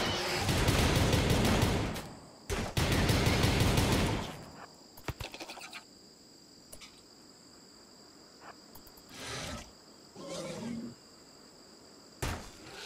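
Rapid bursts of gunfire crackle during a raid in the colony-building game RimWorld, dense loud volleys that stop and start, followed by scattered single shots, with someone talking quietly between them.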